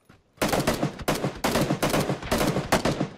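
Rapid bursts of automatic gunfire in a PUBG match, loud and close, with short pauses between volleys after a brief quiet start; no voices.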